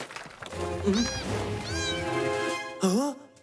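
A small kitten stuck down below meows plaintively several times, rising and falling, near and fairly clear, with a sharper, louder cry toward the end.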